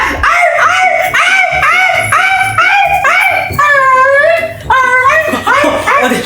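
A person imitates a dog with a run of yelping barks and a drawn-out whining howl, loud and close, with other voices briefly mixed in.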